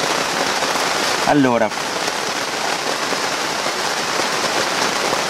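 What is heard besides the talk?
rain falling on a greenhouse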